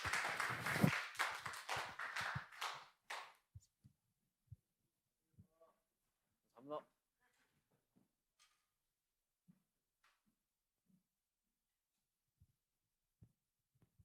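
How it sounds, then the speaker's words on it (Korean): A church congregation claps loudly for encouragement during a Sunday worship service. The dense burst lasts about three seconds, then cuts off to near silence with only a few faint scattered knocks. "큰 박수로 격려해 주시면 감사하겠습니다"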